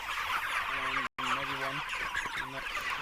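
Repeated honking and cackling calls from a flock of broiler chickens in a roller pen, overlapping and fairly close, with a steady outdoor hiss and a brief dropout midway.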